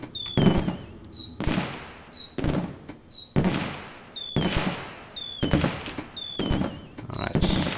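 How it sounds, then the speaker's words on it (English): Fireworks in the video game The Universim, a steady series of about eight loud bursts roughly one second apart, each opening with a whistling rise and ending in a crackling bang. "Let's have some fireworks."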